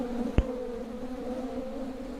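A steady, low buzz of stingless bees hums throughout while a colony is split, with a single brief click near the start; no voices.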